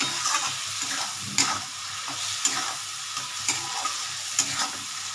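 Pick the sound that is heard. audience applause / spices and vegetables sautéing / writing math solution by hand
spices and vegetables sautéing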